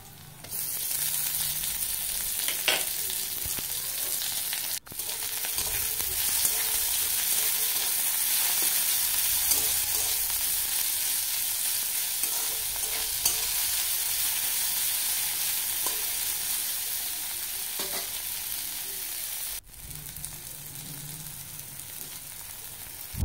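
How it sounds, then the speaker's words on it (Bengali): Chopped onion and green chilli fry in oil with whole cumin seeds, a loud even sizzle holding steady with faint clinks and stirring touches, heard up close with no speech. "দিয়ে দিয়েছি গোটা জিরে ফোড়ন, আর দিয়ে দিলাম পেঁয়াজ কুচি আর লঙ্কা কুচি"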